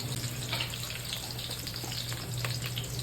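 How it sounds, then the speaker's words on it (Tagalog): Sliced onion and garlic fry in hot oil in a pan, a dense continuous sizzle with a low steady hum beneath and no talking. "Pagka mainit na mantika, ilagay na natin ang sibuyas. Isunod naman ang bawang."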